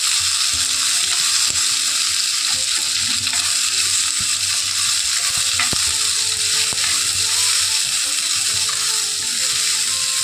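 Onions for a masala curry fry loudly in a pan while being stirred, producing a continuous dense sizzle with occasional clinks and scrapes of the spoon against the pan, without any talking.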